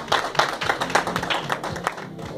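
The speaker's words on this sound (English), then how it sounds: "Can we clap for them?" A small audience at a church event claps for nurses, a few distinct, uneven hand claps close by rather than a full roar, fairly light and scattered.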